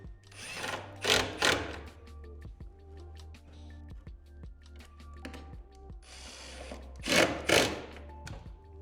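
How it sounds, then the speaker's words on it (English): A bolt driven into a T-nut during a Tacoma pre-cut kit build, giving a close whirring, ratcheting buzz in uneven pulses, with two louder bursts near the start and end, and no talking. "Once again, another bolt in."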